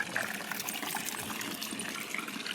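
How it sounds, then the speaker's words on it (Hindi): Fresh water poured from a hose or tap onto dry potted plants gushes and splashes steadily at close range with no talking. "ठंडा ठंडा पानी आ रहा है ताज़ा ताज़ा"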